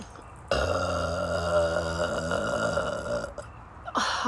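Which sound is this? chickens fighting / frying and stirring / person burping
person burping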